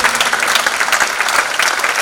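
Loud, dense applause fills a full-house theatre in Lucknow after a show of ghazals, Kathak dance and narration, many hands clapping together in a close, continuous roar with a few sharper claps standing out.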